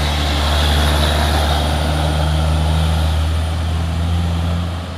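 A heavy truck engine drones loud and steady close by as it climbs a steep hill road, a constant low roar with no talking.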